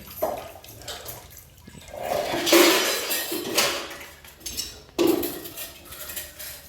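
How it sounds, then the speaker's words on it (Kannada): Dishes and cutlery clink and clatter while water splashes at a water tank in a traditional village courtyard house, with bursts of scrubbing and rinsing; no one speaks. "ಪಾತ್ರೆ ತೊಳಿತಾ ಇದ್ದಾರೆ"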